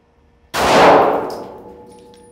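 A Hornady Critical Duty 9mm +P 135-grain FlexLock round fires through auto glass into ballistic gel, a single sharp loud report with a ringing clang that decays over more than a second after quiet.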